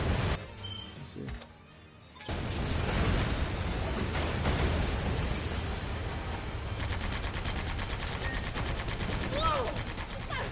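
Missile fire and explosions from the Sand Land video game, a dense, continuous barrage of booms and blasts with a brief lull early on, then sustained rumbling bursts throughout.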